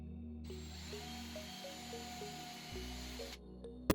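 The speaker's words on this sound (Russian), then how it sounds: "Сверлим отверстие." A power drill bores a mounting hole for a digital readout scale on a Weiss VM25L benchtop milling machine, a steady whirring drone running for about three seconds with a faint stepped tone, then cutting off.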